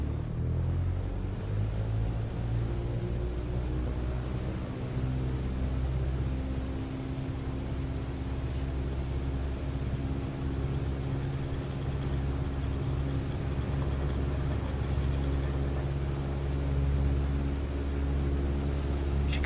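Piper J3 Cub propeller airplane taking off near the Delaware Bay coastline, a steady droning engine and prop hum with a low rumble, constant and close, no talk.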